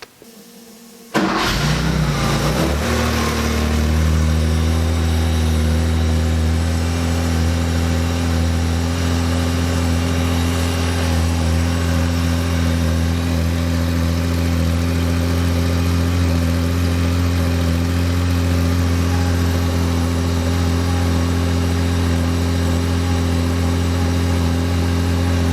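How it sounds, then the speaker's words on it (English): A Porsche engine with CIS fuel injection, not yet run that day, cranks briefly and catches on a cold start, then settles into a loud, steady, close idle that holds unchanged for over twenty seconds. "I'm going to start the engine."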